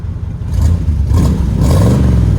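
A 1985 Chevy K5 Blazer with a 5.7L V8 and Flowmaster Flow FX side exhaust revs up close and loud, engine note climbing in two throttle blips with a rumbling, slightly popping exhaust.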